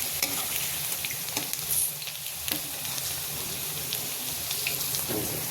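Onion pakoras in gram flour batter fry in hot oil, giving a steady crackling sizzle with scattered sharp pops and occasional stirring scrapes, close and continuous throughout.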